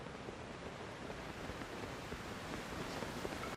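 Steady broadband rush of a waterfall in Zelda: Tears of the Kingdom, a continuous even roar with no distinct events, moderately loud throughout and with no voices.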